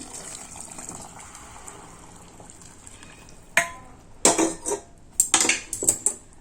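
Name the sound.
hot water poured into pan with millet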